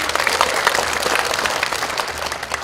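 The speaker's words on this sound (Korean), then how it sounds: "큰 박수로 맞아주시기 바랍니다." Audience at a political constituency report meeting applauds to welcome a speaker, steady dense clapping filling the room throughout.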